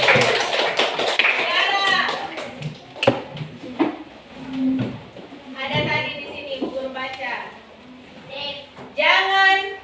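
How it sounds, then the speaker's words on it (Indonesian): A classroom of children claps for a classmate at a school session, a burst of scattered hand claps over the talk of a teacher and the noise of the room. "Oke, tepuk tangan buat temannya."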